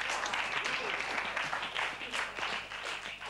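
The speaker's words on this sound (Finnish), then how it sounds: "täällä lajitoverit taputtavat" Audience applause for a 1995 Finnish comedy program, a dense, continuous wash of many hands clapping at fairly close range, with voices mixed in.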